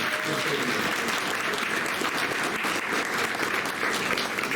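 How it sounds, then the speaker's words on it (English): A final round of applause from a meeting audience, steady continuous clapping from a room full of people, moderately loud and sustained throughout. "how about one final round of applause?"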